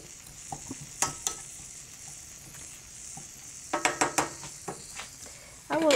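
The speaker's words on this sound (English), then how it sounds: "So let that just saute for a minute" Mushrooms sautéing in a pan give a low, steady sizzle under a series of sharp utensil scrapes and taps against the pan, clustered in a quick burst partway through, with a louder clatter at the end.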